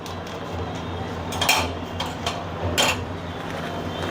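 Spoon scraping and clinking against a bowl while pizza toppings for a homemade raw banana pizza are mixed with salt and magic masala, a few louder clinks over a quiet hum.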